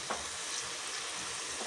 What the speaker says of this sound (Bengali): আস্তে আস্তে ভেজে নেব এগুলো উল্টে পাল্টে।